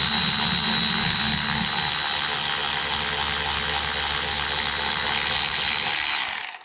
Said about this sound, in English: So I picked up this electric Milwaukee ratchet.